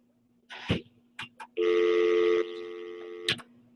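A steady electronic telephone line tone sounds for about a second during a live call-in broadcast, with short clicks and bursts before and after it, fairly loud and close, with no talk over it.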